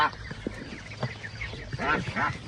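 Ducks and geese in a Ukrainian village honk and quack close by in repeated short calls, while people talk over them.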